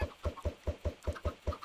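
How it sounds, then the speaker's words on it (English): Chickens in a video game, a close, rapid run of evenly spaced clucks, about eight short pulses in quick rhythm, with no talk. "We got, okay, 2 chickens."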